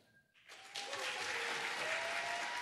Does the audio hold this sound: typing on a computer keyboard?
no